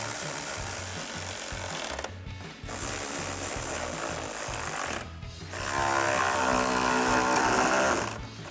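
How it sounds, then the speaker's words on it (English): A 10mm socket on a ratchet tightens headlight mounting bolts on a 2019-2023 RAM 1500 during a Morimoto LED headlight install, giving steady close-up mechanical grinding and clicking that breaks off in short pauses, with no talking. "we'll grab our 10mm socket to tighten these down"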